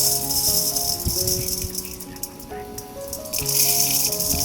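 Kavuni rice grains poured into a measuring vessel, a loud close rattling rush of grains in a few bursts.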